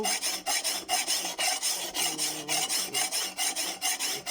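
A hand file rasps along a Thai machete blade in quick, regular strokes, each a close, gritty scrape, repeating about three times a second with no talking.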